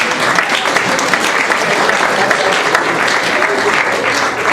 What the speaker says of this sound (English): I'd like to hear a round of applause for them